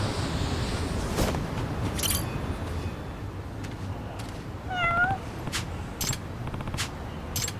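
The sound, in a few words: group of cats meowing in video game Lost Judgment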